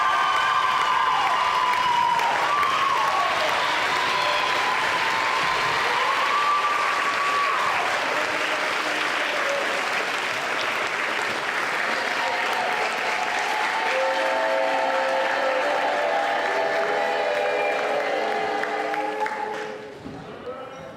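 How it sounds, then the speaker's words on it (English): A student-government general assembly crowd gives loud, sustained applause mixed with cheers and shouts for about twenty seconds, tapering off near the end. "Give her a round of applause."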